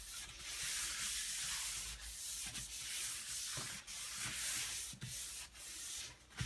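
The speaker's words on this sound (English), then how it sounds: "Wiping off the excess oil." A cloth is wiped repeatedly over a bamboo cutting board to remove excess oil, giving a steady, close rubbing swish in several long strokes, each broken by brief pauses.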